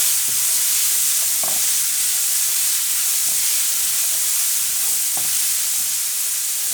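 Boiled peas stirred into fried spices in a pan, a loud steady hiss of frying with occasional faint scrapes of a spoon, close and continuous, no one speaking.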